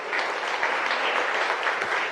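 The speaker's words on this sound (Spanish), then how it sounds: "Dale una ofrenda de palmas al Señor." A church congregation claps together during a Spanish-language worship service, a dense, steady round of applause lasting about two seconds with no talking over it.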